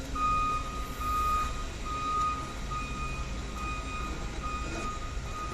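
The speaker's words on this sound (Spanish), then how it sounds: "Si yo lo conecto, automáticamente sale la advertencia." Warning alarm from a DSE6020 generator controller, a steady repeating electronic beep tone sounding over a loud running generator hum.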